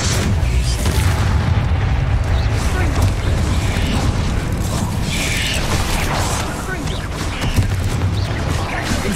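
A Confringo blasting spell goes off in the wizarding game Hogwarts Legacy: loud booming blasts and crackling over dense mechanical clatter and a steady rumble, continuous through the passage.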